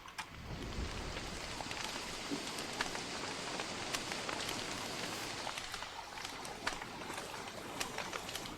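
Rain falling in the survival video game Don't Starve, a soft, steady patter of drops with faint crackles throughout, no talk.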